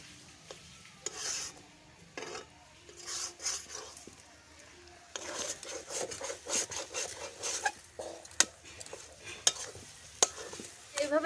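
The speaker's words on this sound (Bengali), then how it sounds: "কড়াইতে জাল দিতে হবে আর নাড়াচাড়া দিয়ে পুরো রসটা মেরে ফেলতে হবে" Taro greens and chickpeas being stirred in a kadai, with repeated scraping and rubbing strokes of a spatula against the pan over a soft sizzle, close and uneven in rhythm, without speech.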